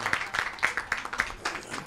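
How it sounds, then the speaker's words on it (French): A small audience in a radio studio claps in an uneven, rhythmic burst of distinct close handclaps, brief and lively. "On applaudit avant qu'il parle."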